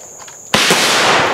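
A single sharp, loud black powder muzzleloader rifle shot cracks at a woodswalk shooting match, followed by a long booming decay, after a quiet stretch with a faint steady tone.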